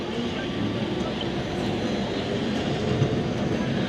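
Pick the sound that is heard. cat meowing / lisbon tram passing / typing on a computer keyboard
lisbon tram passing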